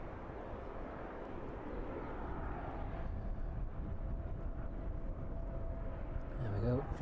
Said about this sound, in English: There we go, just touching down now.